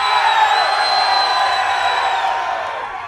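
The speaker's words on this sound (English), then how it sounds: "You mean the roar of applause?" A large concert crowd roars and cheers continuously, loud and dense, with whoops carrying over the sustained wash of noise before it slowly fades toward the end.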